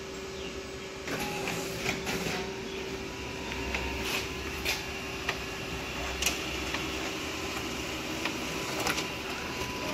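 A Xerox DocuColor 250 printer runs a calibration print, giving a steady mechanical whir with repeated clicks and ticks over about ten seconds. The sound carries at moderate level and no one speaks.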